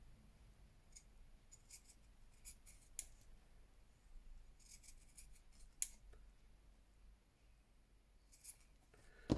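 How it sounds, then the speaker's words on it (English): Scissors snipping around a teapot picture cut from paper or fabric for a collage page, a quiet, close run of short crisp cuts in irregular bursts with small pauses and no talking. "Don't cut teapot spout off, Claire."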